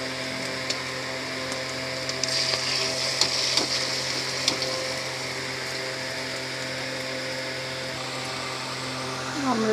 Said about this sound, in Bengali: কড়াইতে তেল দিয়ে দিয়েছি, আবার ডিমগুলো অমলেট করে নেবো।